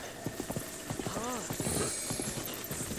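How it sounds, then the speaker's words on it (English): Rapid clip-clop of horse hooves galloping in Zelda Breath of the Wild, steady fast rhythmic thuds close up, with a brief whinny-like tone and faint game ambience. "I better get on this horse fast."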